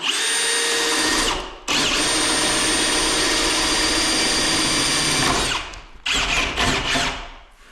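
A power drill spins a 1.5 inch Diablo hole-saw bit through wood while boring ventilation holes for bird blocking, a loud steady whine that cuts out briefly, runs on for several seconds, then stops and restarts in short bursts.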